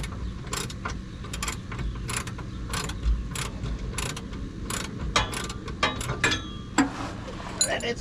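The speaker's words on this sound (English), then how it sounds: "I found a 12-point socket set. A shallow socket." Ratcheting 12-point shallow socket working on the front radius arms of a 2006 Jeep Wrangler, giving a run of quick mechanical clicks in uneven bursts, close up, with a few sharper clacks near the end.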